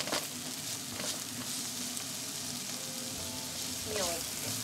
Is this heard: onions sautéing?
yes